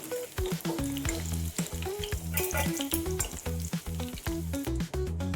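Small shallots or onions sautéing in a pan for a Tamil pirandai chutney, a steady close sizzle with quieter stirring that runs alone without a pause.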